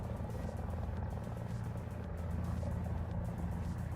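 A helicopter in War Thunder thrums with a steady, rhythmic rotor chop and engine drone, continuous and fairly close throughout.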